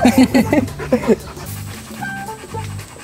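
Small dogs pant rapidly and breathily on a walk, close by, with short bursts of quick breaths early on, then quieter intermittent panting and a faint whine.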